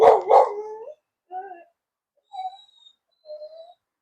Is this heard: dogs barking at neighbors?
yes